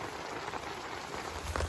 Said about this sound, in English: Well, it is raining a lot.